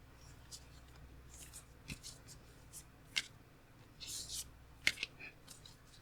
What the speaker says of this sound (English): So I'm trying to shuffle as best as I can, just to try and mix things up a little bit.